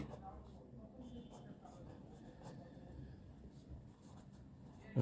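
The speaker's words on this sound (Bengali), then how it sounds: "আমি আগে লিখে নিই" Writing a math sentence for a third-grade fraction subtraction problem: a faint, continuous scratch of handwriting under soft, low talk, ending in a brief louder knock.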